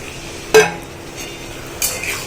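Boiled kabuli chickpeas tipped into a pan of fried spice masala in a home kitchen: a sharp clatter and brief sizzle, then a quieter second scrape of a spoon against the pan.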